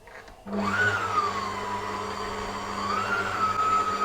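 A stand mixer runs with a steady motorized whine and hum as it kneads sweet cheese bread dough, the pitch wavering slightly as the load changes, with no talk.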